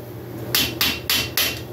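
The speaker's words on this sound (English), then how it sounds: "Hammer and screwdriver" A hammer strikes a screwdriver set in the slot of an engine ring during a 1970 Harley-Davidson Leggero top end rebuild, giving four sharp metallic knocks at a steady rhythm, close and loud, with no talking.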